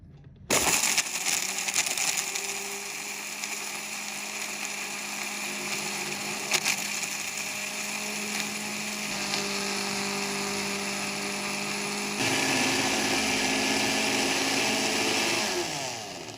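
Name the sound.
electric grinder grinding chaat masala spices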